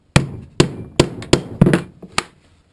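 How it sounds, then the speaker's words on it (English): A hammer strikes a punch to set a rivet in a leather tomahawk sheath, six or seven sharp, close metallic blows at a quick, slightly uneven pace, then quiet. "so that you can set that rivet perfectly with your punch"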